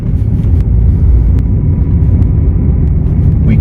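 A BMW 530d M-Sport E60 diesel saloon cruising at about 20 mph, heard from inside as a steady, loud low engine and road rumble with no speech over it.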